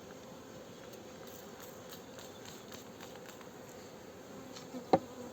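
Dense, steady buzzing of many honey bees close by at a hive in an apiary, a continuous hum with one sharp click near the end.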